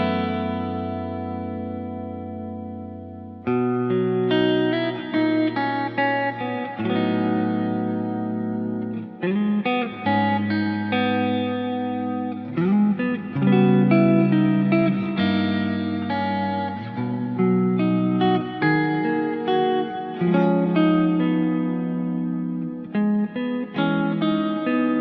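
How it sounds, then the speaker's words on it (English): Electric guitar plays chords and melodic lines through a plate reverb pedal, notes blooming and lingering into one another in smooth reverb, clear and fairly loud with no talking. "it has a plate reverb sound that is very neutral and very perfect"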